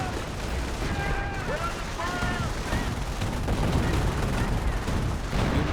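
Battlefield gunfire from infantry in Company of Heroes 1, a dense crackle of rifle and machine-gun shots with distant blasts running continuously under a commentator's voice.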